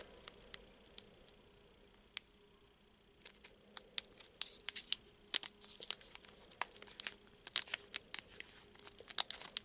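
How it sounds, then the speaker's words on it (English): Scissors cut open a tight Naruto card game booster pack, a quiet run of sharp snips and crinkling foil that starts sparse and grows into a rapid, busy cluster of clicks and rustles. "This one I'm actually a little bit afraid to even open with the scissors because it's kind of tighter than normal."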